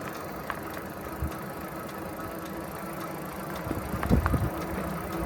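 A Hiboy P6 electric mountain bike accelerates at full throttle from a dead stop with no pedaling, its motor giving a steady mid-pitched whir under rolling road noise, with a few louder clunks and rattles near the end.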